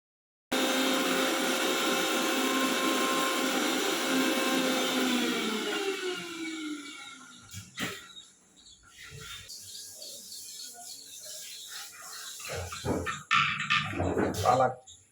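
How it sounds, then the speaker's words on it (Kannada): A mixer grinder blends spinach (palak) in a mixie jar, a loud steady motor whine that winds down after several seconds, followed by softer clatter and background household noise. "ಮಿಕ್ಸಿ ಜಾರನ್ನು ತೊಗೊಂಡು ಅದರಲ್ಲಿ ಪಾಲಕನ್ನು ಹಾಕಿಬಿಟ್ಟು ಮಿಕ್ಸಿಯಲ್ಲಿ ಹೊಡಿಲಿಕ್ಕೆ ಹೋಗ್ತಾ"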